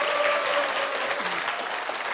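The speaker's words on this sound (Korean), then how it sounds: "큰 박수 부탁드릴게요." Young audience at a presidential candidate's youth town hall meeting giving a short burst of steady applause, fairly loud and close, fading slightly toward the end.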